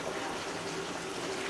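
Water gushes steadily from a turned-on tap at a backyard cane syrup setup, a continuous even rushing at moderate level with no talking.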